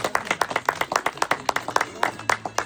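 People clap together at a family celebration, a brisk run of about two dozen sharp, close hand claps in quick rhythm, tapering off after a few seconds.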